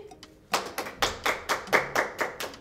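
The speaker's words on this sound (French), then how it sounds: "Applaudissez." A small audience applauds during a Gabonese education talk show, sparse individual claps at first that settle into a steady rhythm of distinct, fairly close hand claps over about two seconds.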